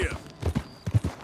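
Horse hooves clip-clopping on a ride in Red Dead Redemption 2, a handful of quick, close thuds in an uneven rhythm over about a second, with a voice briefly present.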